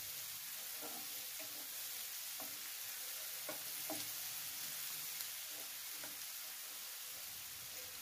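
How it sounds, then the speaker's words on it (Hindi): Mushrooms and onion fry in a pan, a quiet constant sizzle running under scattered light clinks and scrapes of a stirring spoon, all faint and close, with no voices. "तापरे एठी दे दबा मशरूम को प्याज सहित भलो भाव में मिक्स करिबा।"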